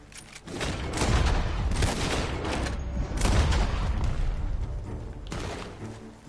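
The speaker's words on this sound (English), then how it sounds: "Gunshots are coming from that farm." Sustained bursts of gunfire from a farm in Red Dead Redemption 2, rapid volleys and heavy booms overlapping continuously, loud and dense throughout with brief lulls.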